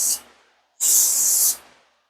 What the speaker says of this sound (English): Spray your cup out just to kind of clean it off.